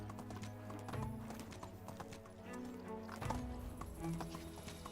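Hooves clip-clop at a steady trot in the medieval village game Medieval Dynasty, a quiet rhythmic clatter with no talk over it.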